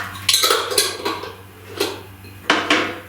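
A spoon clinks and scrapes against a bowl while arrowroot goes into almond powder and oat milk, with a few sharp metallic taps and scrapes over a steady low hum, close up.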